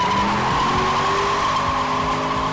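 Shelby Mustang GT with Baer Sport Touring ceramic brake pads braking hard from 100 mph to a stop, a steady loud tire skid with engine tone falling throughout, continuous and close with no talk.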